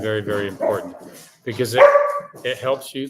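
A pet dog barks and yips in a couple of sharp, close bursts while a person keeps talking over it indoors.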